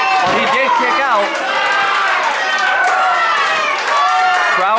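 A wrestling crowd at a POWW independent show loudly cheers and chants for the wrestler Braun, many voices shouting together in a sustained roar that swells and dips.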